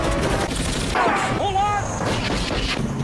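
Bursts of rapid gunfire rattle at a helicopter in the action film Rambo III, layered over a roaring engine and chaotic battle noise, with a voice speaking over the action.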